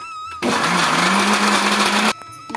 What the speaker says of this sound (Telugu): ఇంకొకసారి అయితే గ్రైండ్ చేస్తున్నానండి కొద్దిగా వాటర్ వేసి